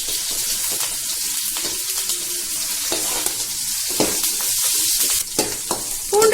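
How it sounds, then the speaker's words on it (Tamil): Garlic with green chilies and curry leaves sautéing in hot oil in a pan for shark puttu, a loud, steady sizzle with stirring scrapes throughout and no talking. "பூண்டு லேசா வதங்கினதும் இப்ப வெங்காயம் சேர்க்கிறாங்க"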